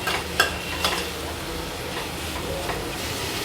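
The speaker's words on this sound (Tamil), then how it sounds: "அப்புறம் பீட்ரூட் சேர்த்துட்டு ஒரு 2 நிமிஷம் வதக்கணும்." Beetroot sautéing in a pan with potato for mint pulao, a steady close sizzle with a few clinks and scrapes of stirring near the start.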